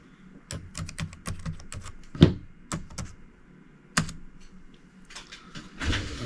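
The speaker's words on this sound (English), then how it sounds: "Press the enter key and enter the password. This is the Windows login password." Keystrokes of a Windows login password typed on a computer keyboard: a run of quick, irregular clicks with a few heavier thumps mixed in, close and fairly quiet.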